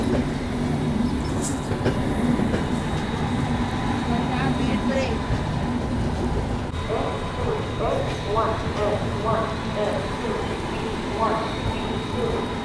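The Lalbagh Express rumbles into Katpadi station alongside another train, with a continuous loud rolling roar, clattering wheels and faint squeals throughout.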